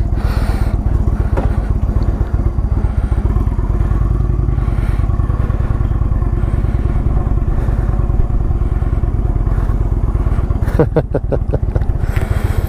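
A 2017 Indian Chieftain Dark Horse motorcycle engine runs loud and close with a deep, steady pulsing throb, with a brief clatter near the end.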